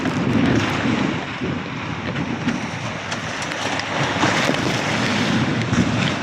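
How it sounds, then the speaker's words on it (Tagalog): Big sea waves and strong wind buffet a small fishing boat out after mahi-mahi, a continuous loud roar of surf and wind noise on the microphone running steadily with no talk. "Medyo malaki ang alon."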